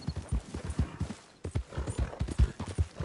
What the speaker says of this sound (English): I'd borrowed a friend's horse for the trip.